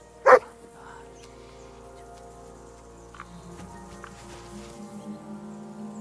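Dog barking in the video game Kingdom Come: Deliverance II, a single loud sharp bark near the start, followed by faint game ambience and small scattered sounds.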